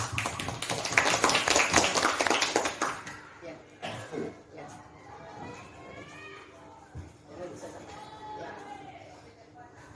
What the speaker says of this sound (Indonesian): Pada Ibu Eni Elita Damanik kita berikan aplaus yang meriah.